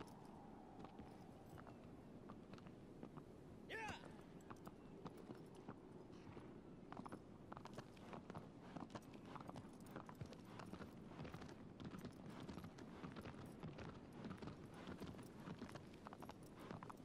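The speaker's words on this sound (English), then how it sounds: "Oh, hello, horse." Horse hooves clip-clop steadily in Shadow of the Colossus, a continuous walking rhythm of hoof falls over soft ambient game sound, with an occasional faint snort or whinny and a brief swell of other game noise.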